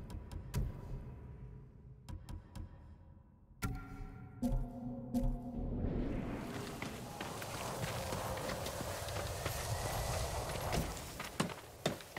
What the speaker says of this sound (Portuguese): Você é um bom cavalo, Nobu.